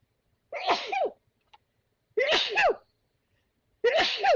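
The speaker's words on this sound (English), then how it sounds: "oh, sneeze." Three sharp sneezes, close and fairly loud, spaced evenly with quiet pauses between them.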